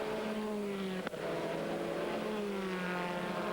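An Audi race car, the Le Mans-dominating prototype, running at speed on a track, a sustained engine drone with a gliding pitch as it passes, fairly distant, with a brief sharp click partway through.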